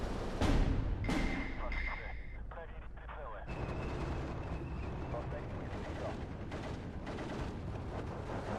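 Mortar fire in the Steel Division 2 video game sounds as booming blasts, with a heavy burst at the start and then a sustained rumble carrying further distant thuds.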